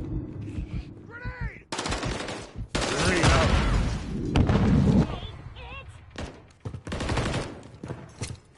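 Gunfire in Call of Duty Modern Warfare 3 multiplayer on the Tanked map, loud bursts of automatic rifle fire and sharp shots in repeated volleys, with shouted voices and clattering effects between bursts.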